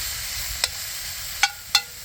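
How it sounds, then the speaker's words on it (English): Tasmanian wallaby meat browning in a pan at a lakeside campsite, giving a steady soft sizzle with three sharp scrape or clink sounds from stirring. "Browning the wallaby meat."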